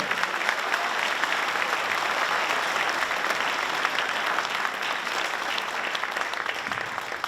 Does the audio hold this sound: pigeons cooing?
no